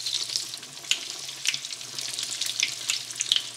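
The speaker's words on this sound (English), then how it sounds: "I'm going to continue frying the rest." Steady crackling sizzle of potato croquettes frying in hot oil, with scattered sharper pops over a continuous hiss.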